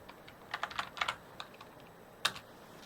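Soft, close-up clicks of fingers typing on a computer keyboard come in a quick cluster of keystrokes, then a few scattered taps and one sharper final press in a quiet room.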